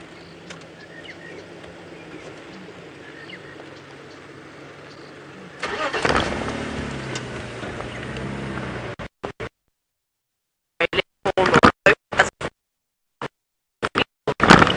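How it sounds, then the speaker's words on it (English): On a sunrise safari drive, a car approaches along the road from faint to loud and rushes past, followed by choppy broken bursts of sound. "there is a car racing along the road"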